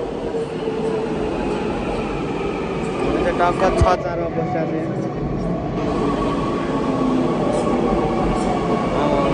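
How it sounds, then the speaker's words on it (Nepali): A train rumbles into a station with a steady roar and brief metallic squeal, while people talk nearby over the noise. "आयो ल आयो है ट्रेन आयो"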